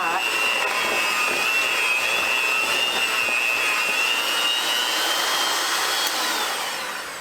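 Electric mixer beating chocolate cake batter with cocoa: a steady high motor whine runs continuously for about seven seconds, close and fairly loud, slowly tapering at the end.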